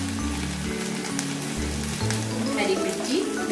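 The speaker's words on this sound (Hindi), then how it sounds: "ग्राइंड किया हुआ लहसुन, अदरक का पेस्ट डाल, इसे अच्छी तरह भूने" Ground garlic and ginger paste sizzles and fries in a pan, a steady crackling hiss with stirring scrapes and low hum beneath, close and moderately loud.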